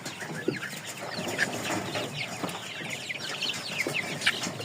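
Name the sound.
chickens clucking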